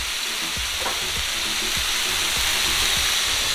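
Olive oil sizzles steadily in a hot pan with shaved steak, a loud, continuous frying hiss with occasional stirring scrapes and clinks, no talking over it.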